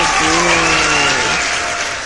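Party guests clapping and cheering loudly for a friend, a dense burst of applause with a few voices whooping over it, tapering slightly toward the end.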